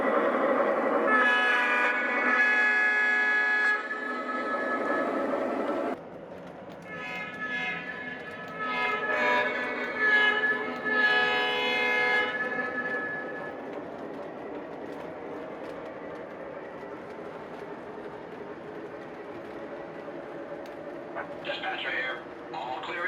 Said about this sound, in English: All right, let's run the locomotive. We'll just push up the throttle here.